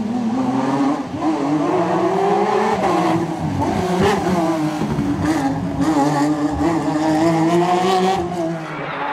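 Peugeot rally car racing on a wet, slippery tarmac stage of the 2015 Critérium des Cévennes, engine note loud and sustained, revving up and down through gear changes with a rich, rising and falling roar that dominates the whole stretch.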